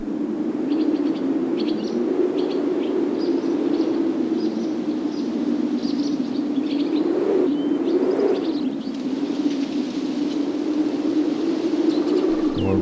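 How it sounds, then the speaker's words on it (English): Forest ambience from a game soundscape, with birds cooing and chirping over a steady wash of wind rustling through the leaves. The wind swells briefly partway through and then settles again. "birds rustling in trees. If I increase the wind"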